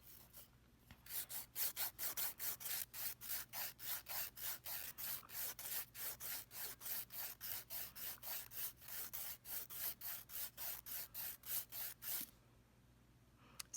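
An acrylic nail tip is filed and tapered, a steady run of about thirty quick rasping strokes in even rhythm, close and crisp, stopping abruptly near the end.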